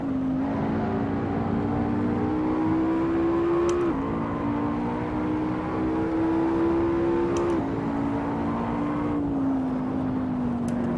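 A McLaren MP4-12C in the Assetto Corsa racing game revs hard, its engine tone climbing steadily and then dropping at each of several upshifts, loud and continuous from the cockpit.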